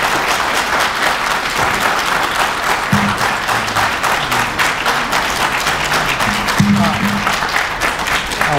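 Audience at a sheriff candidates' forum breaking into loud, dense applause, continuous close clapping throughout with some voices mixed underneath.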